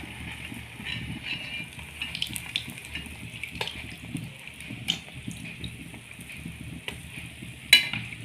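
Neyyappam batter frying in hot oil, giving a steady, moderately loud bubbling sizzle with occasional light clinks of a utensil, continuous throughout and no talk.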